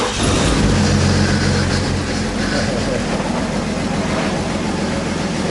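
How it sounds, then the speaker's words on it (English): A BMW diesel swap engine cranking over on a jumper battery placed near the engine, a loud steady broadband churn held for several seconds with no break. "So I just used jumper cables to put another battery up closer to the engine. And we'll see if it cranks now."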